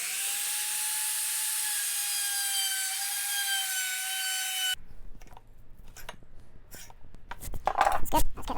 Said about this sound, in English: I'm just going to route off these edges first so they're a bit tidier.